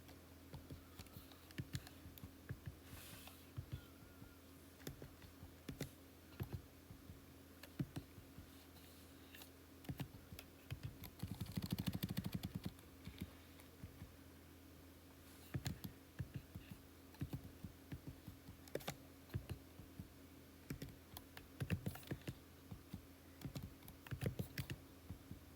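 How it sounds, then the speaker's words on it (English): Calculator keys are pressed one at a time while a list of ranked data is entered, giving soft, close, irregular clicks with small pauses between them. A faint steady hum sits underneath and no one speaks. "I'm going to go back to my calculator, and this time I'm going to type back in my list but with ranks."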